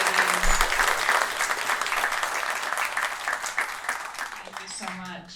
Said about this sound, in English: One more round of applause for 2 amazing ladies